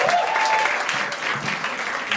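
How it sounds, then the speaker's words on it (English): A comedy club audience claps and cheers for the host and MC, a dense, steady wash of applause that carries on without a break. "Give another round of applause for your host and MC for tonight, Craig Hood."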